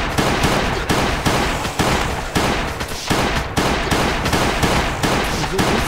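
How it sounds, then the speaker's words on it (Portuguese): Rapid, loud bursts of Beretta pistol fire ring out in Last Day on Earth, a dense run of sharp shots at a near-constant rhythm for about six seconds. "Vamos usar a bereta aqui agora"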